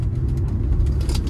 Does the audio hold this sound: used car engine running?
yes